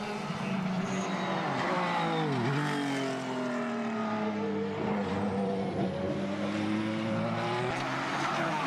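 Formula BOSS race cars lapping the Mondello circuit, engines screaming at high revs with repeated downshifts and pitch swoops as cars brake and accelerate, a continuous loud roar with overlapping passes and no voices.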